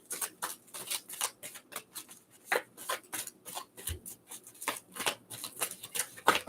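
Tarot cards are shuffled by hand in quick, crisp bursts of riffling and slapping, a close, uneven rhythm of short rustles repeating for several seconds.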